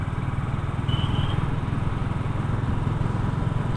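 A motorcycle engine and exhaust note recorded while riding, a steady low pulsing thrum that stays fairly even and close for a few seconds with no talk.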